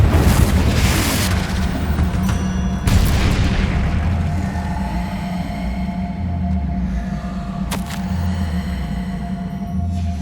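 Loud booming blast of the Confringo fire spell in Hogwarts Legacy, a heavy low thump at the start and another near three seconds, then a rumbling tail with tonal game ambience and a sharp crack near eight seconds.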